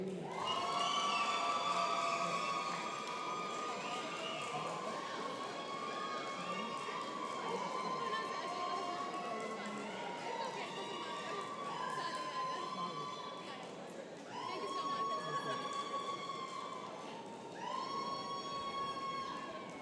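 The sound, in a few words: crowd cheering at white coat ceremony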